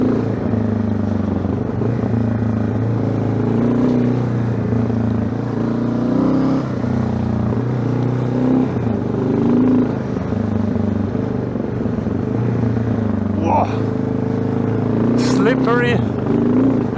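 A Yamaha XT600Z enduro motorcycle rides off-road through slippery forest mud on old tyres, its steady single-cylinder engine drone continuous and close throughout, with brief squeaky bursts near the end.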